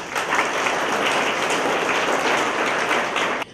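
Dense applause from an audience at the opening of a new school year at a theological seminary in Târgoviște, a continuous loud patter of many hands that holds steady, then cuts off abruptly near the end.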